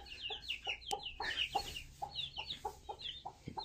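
Chickens cluck repeatedly nearby, a hen with her young chicks on a rural farm, short rhythmic clucks and faint peeps continuing throughout with no talk over them.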